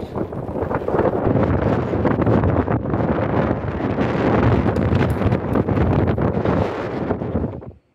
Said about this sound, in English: You can hear the noise of the wind.